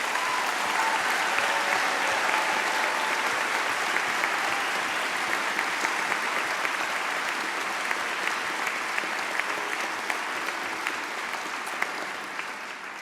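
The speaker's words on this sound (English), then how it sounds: "I think they deserve just one last big round of applause" A large audience at a University of Warwick graduation ceremony gives the graduates a long, steady round of applause, a thick wash of clapping filling a big hall and fading slightly near the end.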